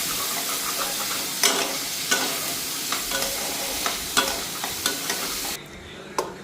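Soft eggplant pieces cook in a spice masala as a spoon stirs them through the pan, with a gentle sizzle under a series of sharp scraping strokes at an irregular pace.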